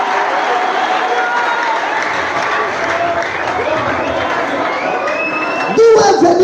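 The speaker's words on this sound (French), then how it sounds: "Est-ce qu'on peut applaudir pour le Seigneur?" A church congregation applauds for the Lord, a loud, steady wash of clapping and cheering that fills the space throughout, with a few voices rising near the end.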